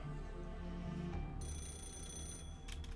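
A phone in Fate/Grand Order starts ringing with a steady high electronic trill, rising abruptly partway through over soft background game music, with no voices.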